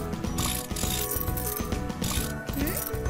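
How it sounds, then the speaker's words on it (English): Metallic clinks and ratcheting clicks from bolts being put in during a cleaning video game for kids, repeated in a busy, dense cluster over a steady game background, with no talking. "Put in the bolts."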